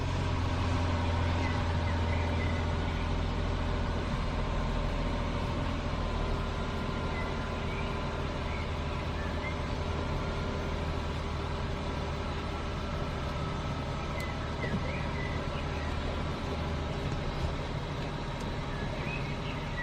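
BMW car idling steadily with its steering wheel held at full lock, a continuous low engine hum with faint whine from the power steering system, close and even throughout.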